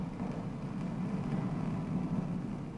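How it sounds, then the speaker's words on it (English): Hundreds of tiny dust particles striking the Cassini spacecraft at 15 to 20 kilometers per second while crossing Saturn's ring plane, a dense, steady crackling hiss with a low rumble, faint and continuous. "what you're hearing is the sound of literally hundreds of tiny dust particles hitting the spacecraft at speeds of 15 or 20 kilometers per second."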